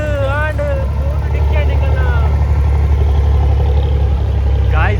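A boat engine hums in a steady low drone throughout a boat ride, with voices talking loudly over it.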